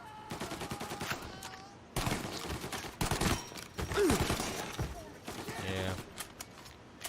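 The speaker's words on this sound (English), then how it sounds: "There's another sniper. This time you have a Tommy gun" Tommy gun fire in the video game Mafia Definitive Edition, several dense bursts of rapid shots with a voice talking between and over them.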